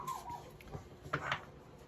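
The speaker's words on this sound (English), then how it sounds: "sorry about the dogs" Several dogs give faint, brief whimpers and a short yip or bark indoors, quiet and distant, with no talk over them.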